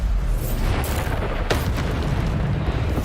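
A Bombarda explosion spell cast in Hogwarts Legacy, heard as a dense, loud rumbling blast that holds steady for about three seconds, with a sharp burst near the middle and continuous low-end roar throughout.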